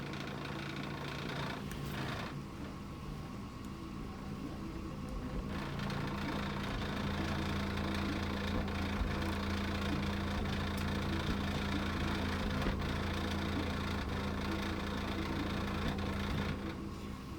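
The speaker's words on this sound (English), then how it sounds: "What you're hearing is the table rattle and not the actual speaker." A table rattles and buzzes from the vibration of a high-output subwoofer being flex tested, giving a steady low droning hum with a rattling edge that grows slightly louder after the first few seconds and runs continuously.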